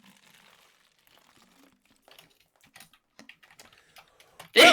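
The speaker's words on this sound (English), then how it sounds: "Oh no, I hear typing." Quiet, close typing on a computer keyboard comes in scattered soft clicks and short bursts, growing a little busier before a sudden loud burst of noise at the very end.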